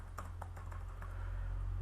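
Keys clack on a computer keyboard as a blog title is typed, a quick run of separate taps over a steady low electrical hum, with no talking.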